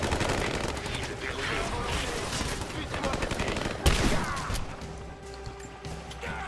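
Shotgun blasts and rapid gunfire ring out in the video game Rise of the Tomb Raider, with sharp repeated bursts and one loud crack near the end, mixed with game effects.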